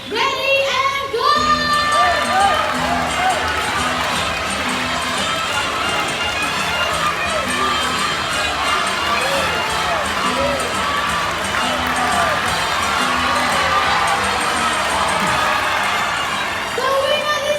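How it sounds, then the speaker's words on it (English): An audience at a bird park show in Jurong Bird Park, Singapore, cheers and shouts loudly and continuously, children's voices prominent, with rhythmic stamping or running underneath and an announcer's voice over the crowd. "you have to cheer much louder, okay? Ready and go!"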